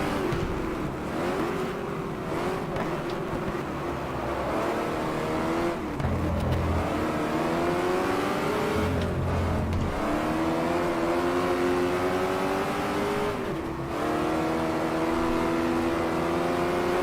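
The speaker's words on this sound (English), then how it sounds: "Short shift into 3rd because otherwise you rev out in 2nd gear to that right-hander." Sim race car engine in GT Legends revving hard and climbing through the gears, with pitch sweeps rising and dropping at each shift over a continuous loud drone, no talk.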